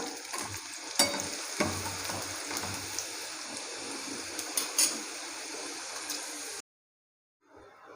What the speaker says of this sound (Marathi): चला चिली फ्लेक्स घातलेली आहे छान थोडं परतून घेऊया